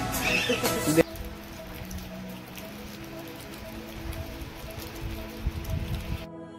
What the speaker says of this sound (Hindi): अभी बारिश आ रही है